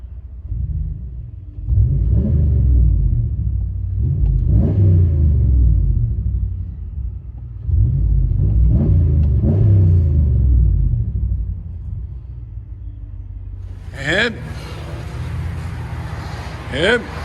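Heard from inside the cab of a 2016 RAM 1500 pickup, its 5.7L HEMI V8 with Flowmaster Outlaw dual exhaust rumbles deep and surges through several revs, muffled and steady, with a brief higher clatter near the end.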